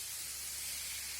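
Cut potatoes hit frying pork in a hot pan and set up a steady, soft sizzling hiss that holds evenly throughout, faint and without voices.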